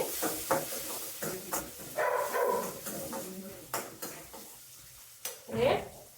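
Chopped large onions fry in a pan, crackling and sizzling while a utensil stirs and scrapes against the pan in uneven bursts, close by with a voice speaking intermittently over it.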